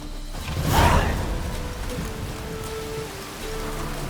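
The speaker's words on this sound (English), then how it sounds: "It only ever rains these days." Steady rain falls in The Witcher 3 video game, a continuous wash of drops that fills the scene with even hiss, holding at a constant level from start to finish with a brief swell near the beginning.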